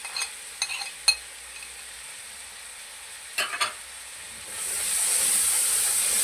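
Several sharp clinks of a utensil against a pan come first. Then tomatoes, fennel and ajwain hit the hot oil and break into a rising, steady hissing sizzle that lasts to the end.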